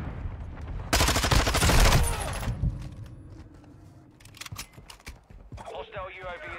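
A dense burst of rapid gunfire in a video game lasts about a second and a half, followed by scattered sharp shots and clicks, with a voice speaking over parts of it.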